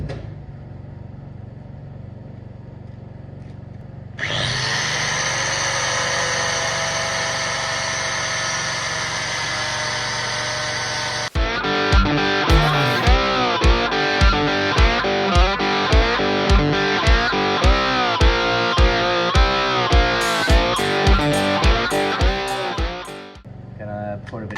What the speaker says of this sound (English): Fire the generator back up